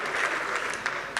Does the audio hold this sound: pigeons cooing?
no